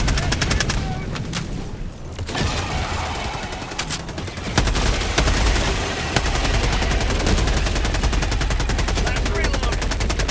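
In the video game Helldivers, a deployed sentry gun fires steady automatic bursts amid dense battle noise, a loud continuous rattle of gunfire with a voice briefly heard in the mix.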